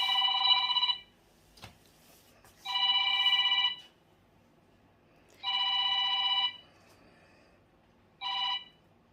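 A home telephone rings in four separate electronic bursts, each about a second long with pauses between them, clear and close in an otherwise quiet room.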